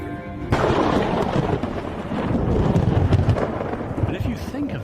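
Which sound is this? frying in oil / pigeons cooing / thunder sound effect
thunder sound effect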